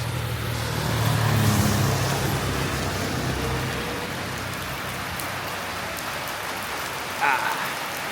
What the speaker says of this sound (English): I'll have to put this away because it is raining.